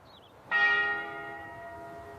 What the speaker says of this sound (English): I wake up every morning to the sound of church bells in my small village.